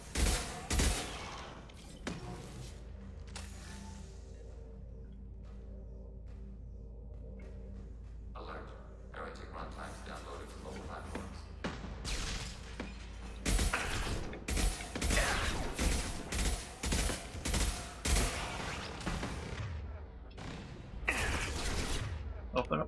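An overridden turret in the video game Mass Effect 2 fires in rapid bursts of loud shots, alongside mechanical clatter and impacts, with a steady low hum underneath and battle noise throughout.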